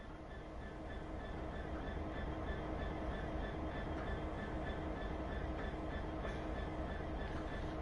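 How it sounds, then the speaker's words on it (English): Freight wagons in the Train Sim World game roll steadily through a discharge facility, a low continuous rumble with faint tonal whine and occasional light clatter, fairly quiet and unbroken. "Set up for shunting and reverse the train through the discharge facility to get these wagons unloaded."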